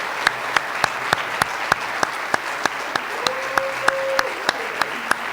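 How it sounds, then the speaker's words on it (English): Applause for students earning honors diplomas at a senior honors program, a steady wash of clapping across the room, overlaid by evenly spaced sharp clicks and a brief tone partway through. "Let's give a round of applause for these students who have earned an honors diploma."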